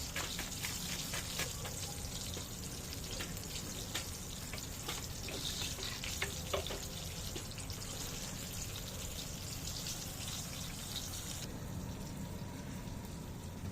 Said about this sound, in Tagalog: Ngayon, luto na tayo ng sauce mga tol.